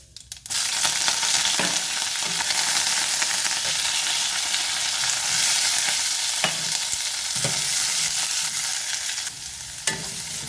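Mustard seeds, cumin and green chillies fry in a couple of spoons of hot oil for avarekalu palya, a steady close sizzle with occasional sharp pops and spatters throughout.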